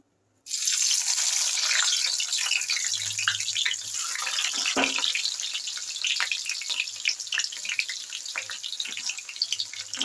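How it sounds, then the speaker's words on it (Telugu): Onion hitting hot oil for a sambar tempering sets off a sudden loud, dense sizzle and crackle that holds steady for the rest of the clip, with sputtering pops on top. "ఇదండి ఆయిల్ కాగిపోయిందండి ఉల్లిపాయ వేసేసుకుందాం"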